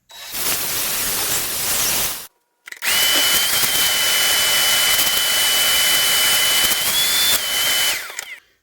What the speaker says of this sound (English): I'm really just trying to get rid of any extra plastic that's in there.